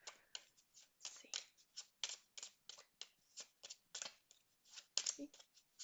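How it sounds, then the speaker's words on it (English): Tarot cards being shuffled by hand during a spirit reading, a quick run of crisp riffling and slapping bursts in an irregular rhythm, close and fairly loud with no one speaking. "a little bit difficult to shuffle"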